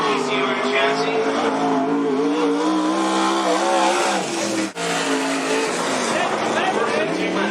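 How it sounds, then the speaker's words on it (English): Race cars roar around Cottage Grove Speedway, one of them on a TCR chassis, their engines a dense, continuous drone with shifting pitch, close and loud throughout as an announcer talks over the racing. "Larry now racing it with the TCR chassis"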